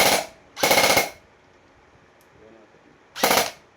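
Poseidon Cerberus airsoft rifle firing fully automatic although set to semi: three short, loud bursts of rapid shots at close range, separated by quiet pauses.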